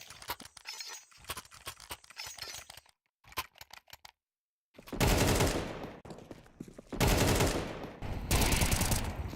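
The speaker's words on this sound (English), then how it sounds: "Demon just spams him straight with the USP." USP pistol fire in a Counter-Strike match rings out in rapid, loud bursts of shots, with brief gaps and a short silence before heavier, denser volleys resume.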